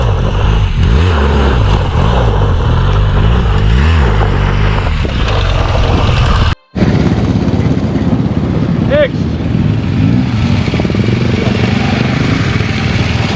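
An adventure motorcycle spinning a donut during off-road rider training, its engine loud and close, revving and droning continuously with wind buffeting; a voice speaks over it.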